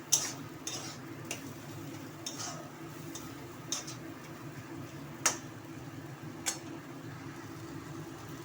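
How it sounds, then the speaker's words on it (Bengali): A spoon stirs boiled spinach and masoor lentils in a pan, giving scattered light scrapes and clinks against the metal over a steady low kitchen hum, with no talking. "সাথে সেদ্ধ করা পালং শাকগুলো দিয়ে দেবো দিয়ে একটু নাড়াচাড়া করে নেবো"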